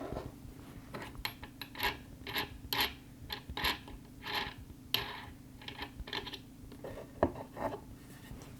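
Small metal nuts being unscrewed and lifted off the threaded bolts of a flower press, a series of faint close scrapes, clicks and rubbing taps spread irregularly through a quiet room.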